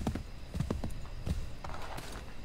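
Horse hooves clip-clop in Assassin's Creed 3, a few faint, irregular thuds from a single horse moving slowly over ground, soft and somewhat distant, with no talk.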